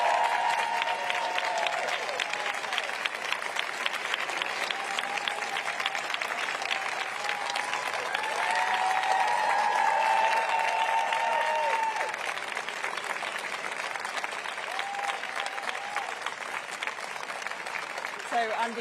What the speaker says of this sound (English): Here he is, you can hear the applause.